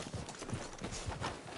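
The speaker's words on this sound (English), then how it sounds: "We should leave the horses." Horse hooves clip-clop in Red Dead Redemption 2, a quick, even run of soft thuds close by over a short stretch.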